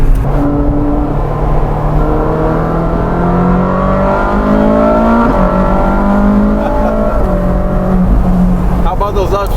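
Ferrari 458 Speciale Aperta engine revving hard, pitch climbing in repeated sweeps with quick upshifts dropping it back, loud and close, with people talking over it.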